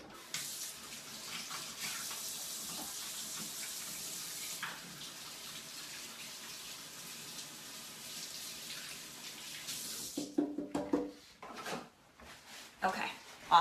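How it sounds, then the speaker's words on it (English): Hands washed under a running kitchen tap after cutting hot peppers, a steady faint hiss of flowing water for about ten seconds, followed by a few clunks and handling noises as the tap shuts off. "I'm just gonna wash my hands real quick"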